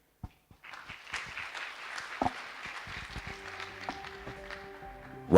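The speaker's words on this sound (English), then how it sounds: "A big round of applause once again." Conference audience at an agroecology event in Kenya bursts into applause after a short opening clap, a dense wash of many hands lasting several seconds, with a few brief voices and some clatter near the end.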